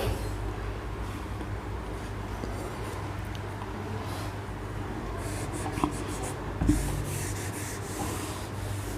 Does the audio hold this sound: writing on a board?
yes